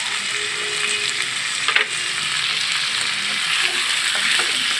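Split taro stolons with salt fry in a pan while being stirred, a loud continuous sizzle with a sharp scrape or knock near the middle, no voices.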